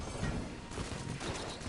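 Rapid small-arms gunfire from the video game Enter the Gungeon comes as a dense, continuous fusillade of many small shots, loud and busy throughout.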